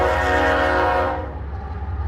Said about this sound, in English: But this train here is the one that comes across all the way across I-84 from Portland.